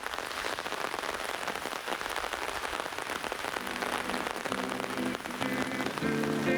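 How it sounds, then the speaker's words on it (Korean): Heavy rain falls steadily on a vegetable garden plot, a dense continuous patter with a faint tonal hum emerging near the end. "비가 더 거세게 오기 시작하네"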